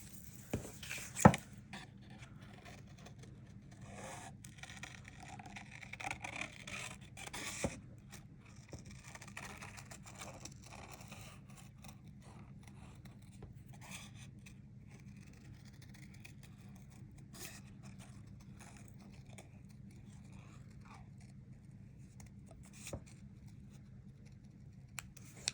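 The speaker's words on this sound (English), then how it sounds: "And then I'm just going to fussy cut him right out." Scissors fussy cut a paper image out for a glitter shaker card, giving faint, scattered snips and light paper scrapes over a quiet room hum, with no talking.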